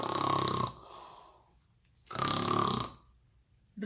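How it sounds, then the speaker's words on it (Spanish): Snoring in a children's story, two long, loud rasping snores with a quiet breath in between, alone with no talk. "Ronquido y más"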